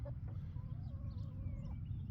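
Chickens clucking near a quail tractor on a small farm, soft scattered clucks and calls over a constant low rumbling background.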